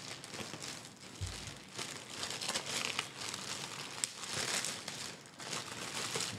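A cardboard package is cut open with scissors, giving steady crinkling, crackling and tearing close up over the whole stretch, with no talking.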